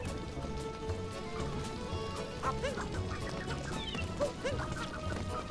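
A chicken clucks in the video game Super Mario Odyssey, short fowl-like clucks and squawks popping up over a busy game soundscape with steady background music.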